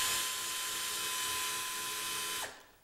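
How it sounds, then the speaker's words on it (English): A power drill bit boring into chestnuts, a steady high whine with a constant tone that runs loud for over two seconds, then winds down quickly as the drill stops. "Try chestnuts on the business end of a drill bit."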